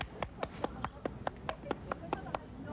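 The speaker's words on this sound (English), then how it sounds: "Clapping." About a dozen evenly spaced claps, steady and fairly close, ringing out over a low outdoor background in a small-town park in Port Hope.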